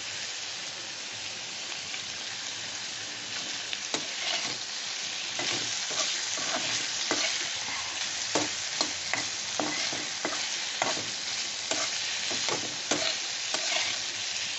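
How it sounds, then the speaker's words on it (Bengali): Prawns sizzling in a pan while being stirred with black pepper. A steady fry hiss runs under repeated sharp scrapes and taps of a spoon against the pan, which grow busier as the stirring goes on. "গোলমরিচ দিয়ে একটু নেড়ে নেব"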